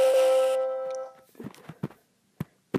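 The Windows 3.0 'Ta-da' startup sound opens with a bright, layered synth chord that rings for about a second and fades, followed by a few soft clicks and taps in near silence.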